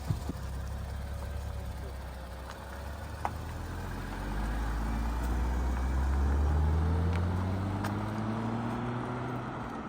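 An Infiniti Q60 Red Sport fitted with an Ark Performance Grip catback exhaust pulls through second or third gear, a deep engine note rising steadily in pitch and loudness, then easing slightly near the end.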